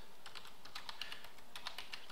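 Rapid typing on a computer keyboard while filling in a sign-up form, quiet, uneven bursts of light key clicks with no voices.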